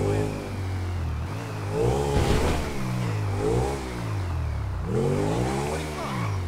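Motorcycle engine in the GTA V video game revving up and down in repeated rising and falling surges, loud and close, with a voice talking briefly over it.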